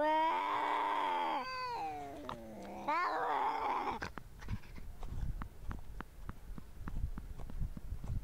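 A cat gives long, drawn-out meows with wavering pitch for about four seconds, fairly close. Quieter scattered clicks and taps follow.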